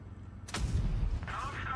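A tank cannon fires in World of Tanks Blitz with one heavy booming blast that rings out, then game sounds continue and a faint voice talks underneath.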